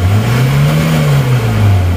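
A diesel car engine revs up and holds high before dropping back, a loud, close, continuous droning roar rising and falling in pitch, with a smoking exhaust.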